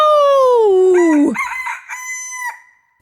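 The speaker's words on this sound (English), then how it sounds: "The cockerel, too, which had been awakened by the noise and had become lively, cried down from the beam, "Cock-a-doodle-doo!"" A cockerel crows a loud, close cock-a-doodle-doo from a barn beam, with a long falling first note followed by shorter rising calls before it cuts off.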